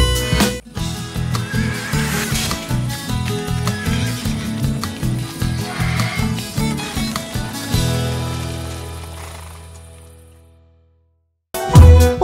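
A stallion is heard over music with strong rhythmic beats that fade away, followed by a brief loud burst after a moment of silence.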